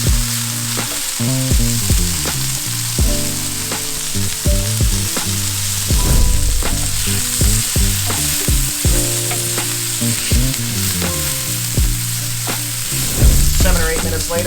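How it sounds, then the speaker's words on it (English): Onions sautéing in a pan with dried oregano and homemade chili powder for quesadillas, a continuous soft sizzle running beneath prominent background music for the whole stretch, with no speech. "So we're gonna saute these for about 5 minutes, maybe 10 minutes, basically until the onions are translucent."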